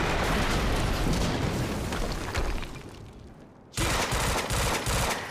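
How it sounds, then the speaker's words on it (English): Explosion in the Quantum Break video game: a loud, dense roar of blasts and crackling that thins out briefly, then slams back in at full force. "we just heard an explosion near the harvesting perimeter"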